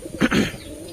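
A female Giribaj pigeon gives a short, close coo, a soft throaty double note lasting under a second.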